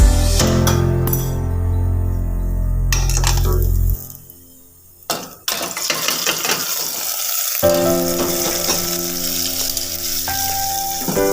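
Popped mustard seed tempering poured into a ridge gourd and tomato curry: loud frying hiss and crackle with clinks of a metal pan, a brief quieter gap, then the sizzle resumes strongly as it hits the curry.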